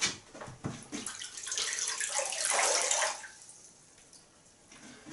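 Cold water rinses alum off a freshly shaved face, a running, splashing wash that swells for a few seconds and then thins to a quieter trickle.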